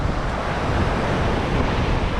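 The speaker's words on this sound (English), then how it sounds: "It's a little windier today than the last trip, and it's actually pretty damn cold out here." A strong, cold wind rushes steadily across a surf-fishing beach, buffeting the microphone in a loud, continuous roar mixed with breaking surf, with nobody speaking.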